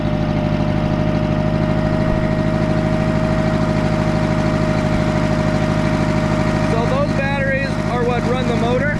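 A loud sawmill engine idles steadily while warming up, with a constant rhythmic chug and hum; near the end, a voice speaks briefly over it.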